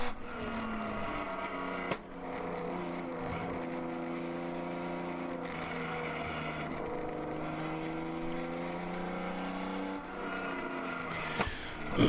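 A race car at the Charlotte endurance race accelerates at full throttle, its engine roaring loudly and continuously with rising and falling pitch through the gears over about twelve seconds, a few short dips marking shifts.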